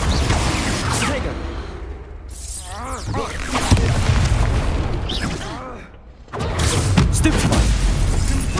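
Confringo spell explosions in the Hogwarts Legacy video game during combat: loud booming blasts and bursts under continuous battle noise, with a voice shouting spell names throughout.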